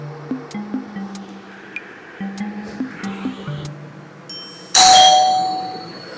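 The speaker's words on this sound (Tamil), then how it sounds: "யாராவது காலிங் பெல் அடிக்கிறான்," An indoor doorbell rings once, a sharp bright chime that rings out and fades, after a stretch of soft tonal blips and quiet background noise.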